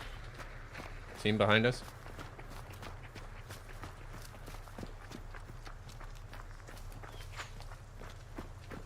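Crouched footsteps in the game Hunt: Showdown pad softly in a quick, even series of muffled steps over a low ambient hum, with a brief spoken remark near the start.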